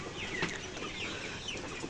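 Tiger chickens on a poultry farm give faint, scattered clucks over a steady low background.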